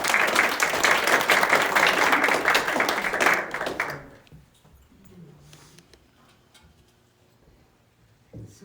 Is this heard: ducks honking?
no